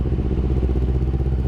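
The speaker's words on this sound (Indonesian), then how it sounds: "Itu motor tuh nyala, cuman berebet gitu guys, nggak mau jalan" A used Kawasaki Ninja 250FI motorcycle engine running rough with a steady, close, loud low chugging drone and a faint uneven rattle underneath, sputtering without clean revs throughout.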